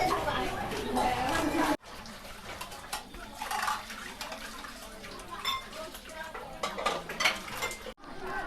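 Dishes, pots and cutlery clatter and clink as they are washed at a merit-making gathering on a Buddhist holy day in Shan State, with a steady hum of voices chatting around the busy scraping and knocking.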